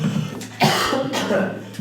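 Someone gives a few harsh coughs and clears their throat in a small room, with chatty voices around and between the bursts.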